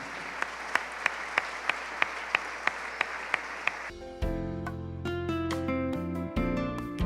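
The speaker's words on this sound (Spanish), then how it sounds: "Dele ofrenda de palmas al Señor." A church congregation claps in a steady, evenly spaced rhythm during a Sunday service, the claps sharp over a background hum before music swells in and takes over.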